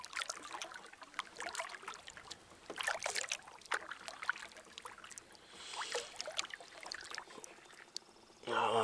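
Canoe paddle strokes dip and pull through the water at a lake camp, a steady run of soft splashes and trickles with drips between strokes, fairly close, and a brief louder rush near the end.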